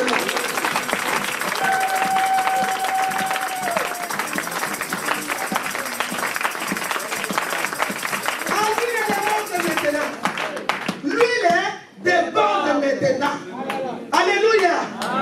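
A church congregation claps and applauds in a dense, steady roar for about ten seconds, then the clapping gives way to a voice speaking into the room.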